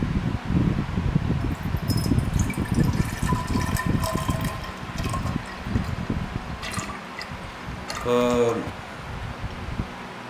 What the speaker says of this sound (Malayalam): ഇതിലേക്ക് കുപ്പിയിലേക്ക് ഒഴിക്കുകയാണ്.